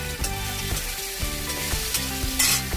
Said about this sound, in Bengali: আলুটা এখন ভাজছি।